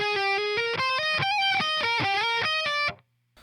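Distorted electric guitar plays a fast, melodic lead run from the solo of a song, loud and close for about three seconds of rapid, bending notes before cutting off into silence.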